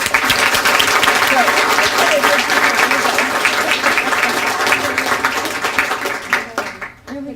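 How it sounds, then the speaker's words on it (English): An audience at a student of the year event applauds loudly and steadily for several seconds, with some voices mixed in, before the clapping fades and breaks off near the end. "So let's give you all a great round of applause"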